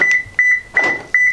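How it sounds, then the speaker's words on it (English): A 2016 Toyota Corolla LE Plus lock confirmation: a series of shrill electronic beeps, four quick chirps in a row, loud and close with nothing else around them. "You can also set your radio not to make this noise. Beep when you lock it."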